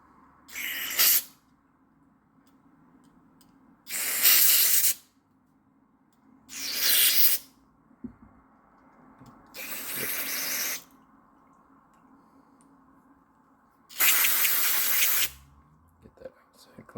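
Aerosol carb cleaner sprays onto a small engine carburetor in five loud, close hissing bursts, each lasting about one to one and a half seconds and separated by quiet gaps, over a faint steady hum.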